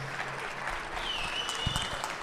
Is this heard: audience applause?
yes